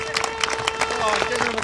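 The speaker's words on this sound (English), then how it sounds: "Round of applause, everybody." Crowd applauding at a Roman reenactment ceremony in Middlewich, scattered claps from many hands mixed with a sustained tone and crowd murmur, fairly loud and close.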